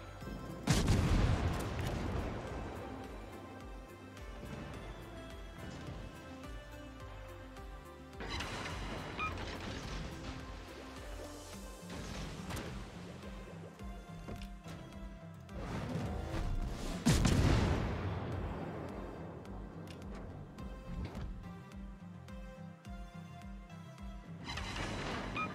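A World of Warships Tier VI Japanese cruiser, Gokase, firing armor-piercing salvos: heavy booming blasts with long rumbling tails, two large volleys separated by sustained engine and sea rumble, loud and close.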